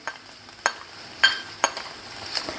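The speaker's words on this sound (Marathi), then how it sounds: "तेल तापलं आहे, त्यात आपण 1/2 चमचा मोहरी टाकूयात।" Mustard seeds popping in hot oil, joined by garlic, for a chhodyachi khichadi: sharp scattered crackles and spits at irregular intervals over a quiet low sizzle, nearby and alone.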